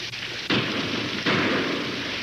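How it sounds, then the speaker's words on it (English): Gunfire in a 1949 Western serial, two sharp reports fired from over a ridge. Each shot gives a sudden loud burst with a long, echoing, hissy decay, and no one speaks. "Shots sound like they come from over ridge."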